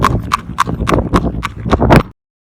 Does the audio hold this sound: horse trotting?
yes